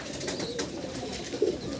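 Andhra Madrasi pigeons coo softly among the birds, a low steady murmur with one slightly louder coo near the end.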